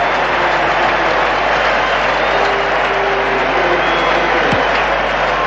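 A big cricket crowd at Eden Park roars and applauds after the final Pakistan wicket falls in a 1985 one-day international against New Zealand, a loud, steady, unbroken wall of cheering and clapping.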